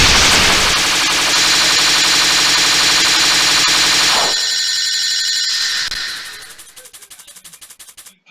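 Bomb attack firing in a Danmakufu bullet-hell video game: a loud, dense burst of rapid synthetic shots and ringing tones for about four seconds, then trailing off into fading pulsing echoes.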